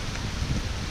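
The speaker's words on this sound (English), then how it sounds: "it is raining cats and dogs" Heavy rain pouring down at Mooloolaba Beach, a steady dense broadband wash with no distinct drops, loud and close throughout the short stretch without any talking.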